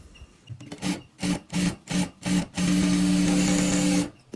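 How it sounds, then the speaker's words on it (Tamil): Sewing machine running a stay stitch through saree blouse fabric, several short bursts of stitching followed by one longer continuous run, close and fairly loud with no talk. "இதில் வந்து ஒரு படிமான தையல் போட போகிறேன்"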